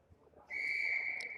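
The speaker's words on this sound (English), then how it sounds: "there's the whistle to get us going here" Referee's whistle at a junior ice hockey game blows one sharp, shrill sustained blast to start a face-off after a timeout, clear over faint arena murmur.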